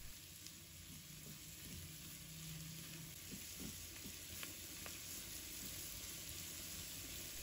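Celery and carrot stir-fried fast over high heat in a wok, a faint continuous sizzle with occasional scraping tosses, steady and without speech.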